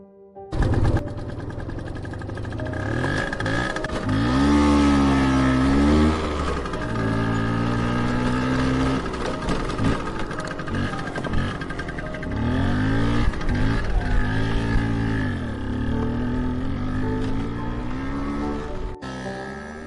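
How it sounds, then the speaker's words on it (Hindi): A scooter engine pulls away and keeps running steadily, its note rising and falling in pitch as it rides off, fairly loud and continuous with no talk over it. "और स्कूटर लेकर जाने लगता है।"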